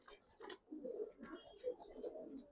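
Giribaz pigeons produce quiet, low cooing in short rounded bursts, faint and somewhat distant, with a few sharper noises between calls.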